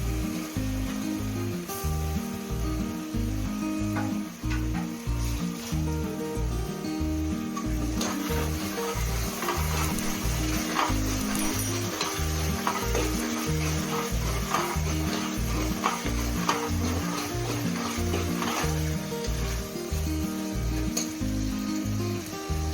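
Continuous sizzling of tomatoes frying in a pan with garlic for mushroom biryani, with occasional stirring scrapes, over rhythmic background music throughout.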